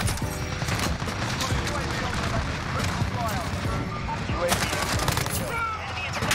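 Sustained automatic gunfire from a Modern Warfare video game weapon firing red tracer rounds, dense rapid bursts filling the whole stretch, loud and close, with a voice talking over it.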